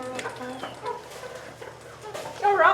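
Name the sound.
chickens clucking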